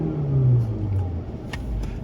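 A car engine runs steadily with a low, loud rumble and a slight drop in pitch as it settles, heard from inside the vehicle with a few faint clicks over the drone.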